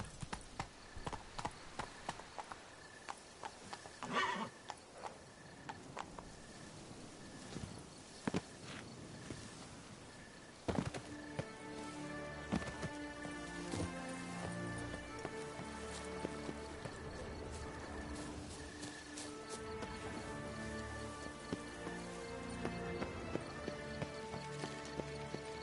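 The horse Roach from The Witcher 3 on PS4, its hooves clopping at first in scattered steps and then settling into a steady, quick rhythm of hoofbeats under a layer of game music and ambience.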